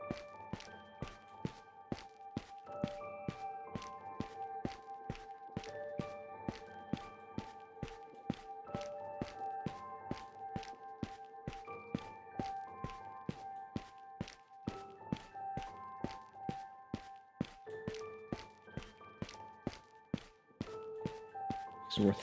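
Rapid, evenly spaced footstep thuds run through the whole stretch in a video game, steady and fairly close, layered over tonal game sounds with talk mixed in.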